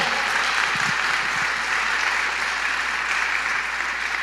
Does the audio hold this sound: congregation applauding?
yes